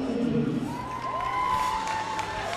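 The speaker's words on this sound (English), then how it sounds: "It's a good hand from the crowd" A stadium crowd at the 2013 IPC Athletics World Championships gives a broad, steady wash of applause and cheering before the men's T46 100 metres semifinal, continuous and moderately loud, with faint shouts rising above it.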